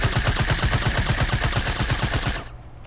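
Suppressed SMG fire in a PS4 video game: a rapid, even stream of muffled shots, roughly a dozen per second, close and steady for over two seconds before cutting off abruptly.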